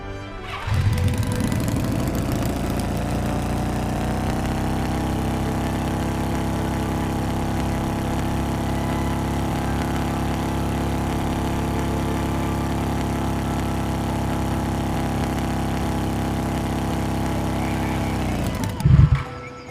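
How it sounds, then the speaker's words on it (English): Motorcycle engine in the Noah's Heart video game running at a steady, loud drone for nearly the whole stretch, starting up at the outset and cutting off with a brief burst near the end, with no voices. "To get there faster, I will drive you on a motorcycle."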